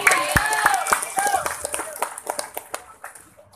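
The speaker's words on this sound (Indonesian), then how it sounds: "Tepuk tangan." A crowd at a religious lecture for police claps in scattered, uneven bursts that thin out toward the end, with voices murmuring underneath.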